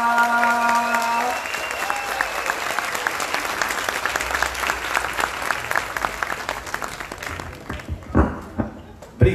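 Concert audience applause bursts out as a song ends, dense sustained clapping filling the space, close and steady, fading slightly near the end as a voice begins to speak.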